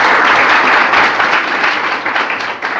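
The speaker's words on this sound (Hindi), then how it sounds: "एक बार जोरदार तालियां बजाएं।" Loud, dense applause from an audience at a cyber security workshop in a hall, a sustained wash of many hands clapping close by, easing slightly toward the end.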